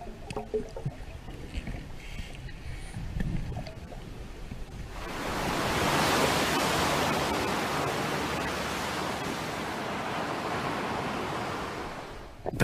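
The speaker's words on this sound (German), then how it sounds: "Das Meer ist aufgewühlt, Sicht nur eine Armlänge weit." Rough open sea surges around a team of swimmers heading for a beach, starting with quieter sloshing and swirling water, then swelling into a loud, sustained roar of breaking waves.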